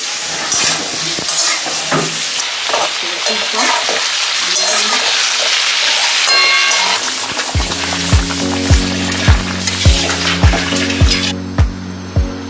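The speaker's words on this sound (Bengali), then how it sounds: "এখানে মাছটা ভাজা হয়ে গেছে, সবজিগুলো ভাজা চলছে।" Vegetables fry in a pan at home, a steady close sizzle with stirring throughout; near the end a repeated low rhythmic thumping cuts in over the frying.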